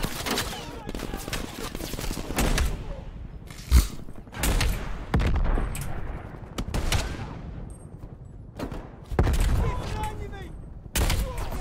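Rapid gunfire crackles through a Cold War shooter game in bursts and single loud cracks, with heavier booms among them, while players talk over the fighting.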